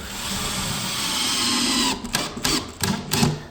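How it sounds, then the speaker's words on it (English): A power drill driving screws into a drywall panel during an office installation, a sustained whirring motor that then breaks into short stuttering bursts as each screw seats. "Now we're just gonna screw it all in."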